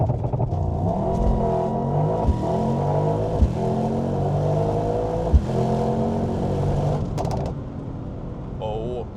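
A Mercedes-AMG GT63 Coupe with all-wheel drive launches on a wet road, its engine revving loud and close in a sustained, rising drone with a few sharp knocks.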